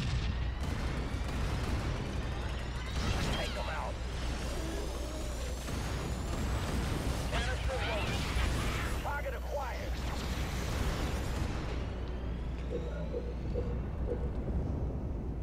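Tanks and gunfire clash in the Halo Wars video game, a dense, loud wall of rumbling engines, booming cannon blasts and rattling shots under brief radio-style unit voices.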